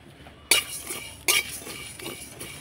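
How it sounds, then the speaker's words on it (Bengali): Whole spices with dried red chillies dry-roasting in a dry pan, stirred so that two sharp clinks of spoon against metal stand out, followed by quieter scraping. "তো শুকনো খোলায় ভেজে নেব সব কিছু"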